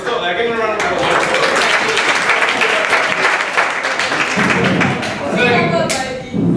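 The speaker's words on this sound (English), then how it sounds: "Give them a round of applause." An audience applauds at a talk on using laughter to solve problems, dense sustained clapping filling the room from start to finish, easing slightly near the end before swelling again.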